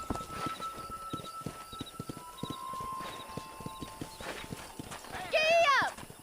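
A horse gallops in the Red Dead Redemption video game, its hooves clip-clopping in a steady rapid rhythm. A brief whinny comes near the end, and a voice is heard over the hoofbeats.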